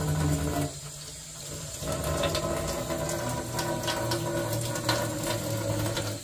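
An air fryer chamber is rinsed under a running tap, with steady splashing water and a brief dip partway through as the flow shifts, close and continuous with no talking.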